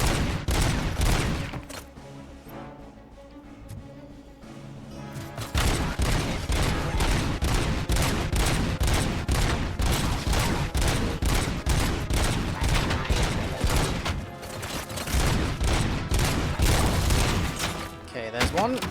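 Gunfire from the video game RoboCop: Rogue City, dense bursts of rapid shots and impacts hammering almost nonstop after a brief lull, loud and close.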